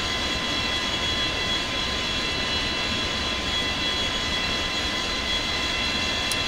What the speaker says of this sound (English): Great sounding engine.